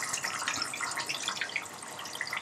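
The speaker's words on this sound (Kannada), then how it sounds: "ಚೆನ್ನಾಗಿ ಮಿಕ್ಸ್ ಆದಮೇಲೆ ಈಗ ನೀರು ಹಾಕ್ಕೊತಾ ಇದ್ದಾರೆ." Water trickles and splashes into pizza dough mixed with oil, a short, close, fairly quiet pouring sound with small drips.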